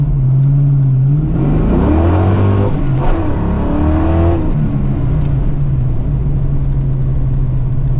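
A Ford Mustang Foxbody fitted with slicks and new axles revs loudly up close, its engine note climbing and falling through a strong rev before settling back to a deep, steady idle rumble.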